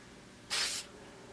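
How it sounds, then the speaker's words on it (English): A single short burst of aerosol spray, about a third of a second long, as clear coat is sprayed onto a patent leather Air Jordan XI sneaker; the hiss is sharp and close against a quiet room. "I spray, I start way over here and end way over here."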